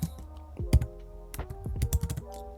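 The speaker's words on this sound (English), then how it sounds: "You notice that I can still keep typing." Rapid clicking of keys on a computer keyboard, irregular bursts of close, crisp keystrokes typed into a terminal, with no voices.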